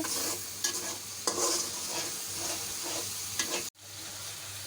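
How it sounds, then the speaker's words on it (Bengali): Soaked red lentils sizzle and spit in a hot pan of okra, a steady dense frying hiss broken by a few louder stirring scrapes before a sudden brief cutoff. "দেখতে পাচ্ছ আমি ডাল দিয়ে দিচ্ছি এখন ভেজে নিব"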